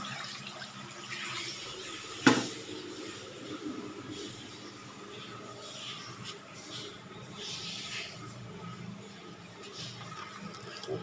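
Water runs and splashes into a cooking pot in a home kitchen as a steady, fairly quiet flow, with a single sharp clank near the start.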